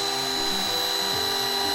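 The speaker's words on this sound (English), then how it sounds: "Now keep the drill on and back up." A power drill whines steadily and loudly as it drives into a pilot hole, its pitch dipping and rising with the load throughout.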